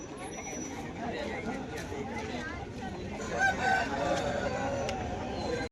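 Chickens and roosters fill a busy Sunday poultry market in Peeleru, with crowing and clucking over dense crowd babble. Someone speaks near the microphone throughout.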